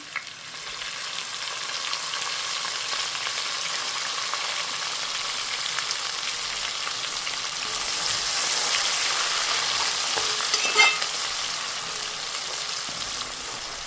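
Green onions frying in hot oil with ginger and garlic, a steady close sizzle that swells louder midway, with occasional stirring scrapes and no talking.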